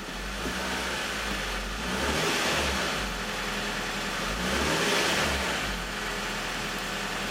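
A car engine idles and revs in two gentle swells, rising and falling again, steady and fairly close, with no talking.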